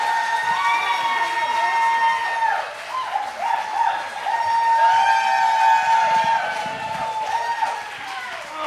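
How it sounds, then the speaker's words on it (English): A comedy show audience cheers and whoops loudly over steady clapping, the voiced shouts rising and falling continuously for several seconds without a break. "Keep clapping. Keep clapping."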